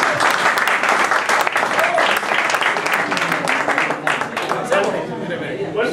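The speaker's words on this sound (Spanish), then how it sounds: "Aplausos." Steady applause from an audience at a talk on traditional Colombian cumbia, dense clapping that fills the whole stretch at a fairly loud level, with some murmured chatter mixed in and easing slightly toward the end.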